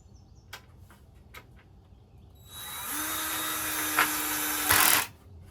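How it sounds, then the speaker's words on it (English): Power drill driving bolts into a Veikous raised garden bed, starting after a few soft clicks and whirring steadily for about two and a half seconds with a rising pitch before cutting off, close and alone. "just something boring watching me drill"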